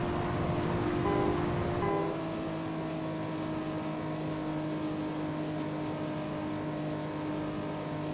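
A race car engine in the video game Juiced drones steadily at high revs for the whole stretch, with a brief rougher surge near the start as nitrous boost kicks in, then a sustained even whine.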